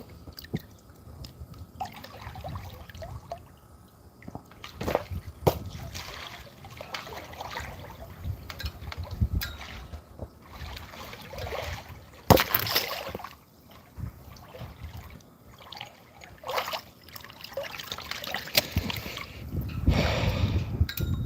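Water splashes and trickles in a pool, with irregular close sloshes and drips and a few sharper splashes over soft background noise.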